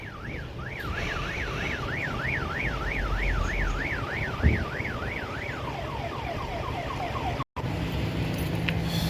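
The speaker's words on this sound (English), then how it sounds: "That's the Viper alarm system on a car." A Viper car alarm, rigged as a truck's backing-up signal, wails in a fast rising-and-falling warble, then switches to a quicker descending chirp pattern, moderately loud over steady engine rumble, with a brief cut near the end.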